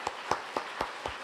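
Five slow, evenly spaced claps in a church, soft and isolated, with quiet between each one.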